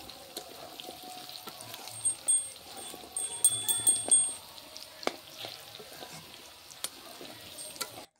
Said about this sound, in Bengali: তো আলুটা না আমি একদম পেঁয়াজের সাথে ভেজে নিলাম।